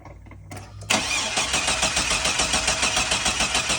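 A car engine turning over on the starter during a crank-no-start fault check, a steady rhythmic cranking chug that begins abruptly after a brief quiet lead-in and continues loud and close.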